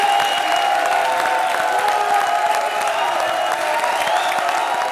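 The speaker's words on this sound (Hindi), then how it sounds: "ताली बजाओ" Clapping from the studio audience of a comedy show. The applause forms a steady, fairly loud wash that lasts the whole stretch, with a sustained musical tone layered underneath.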